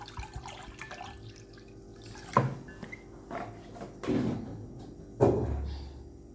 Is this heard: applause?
no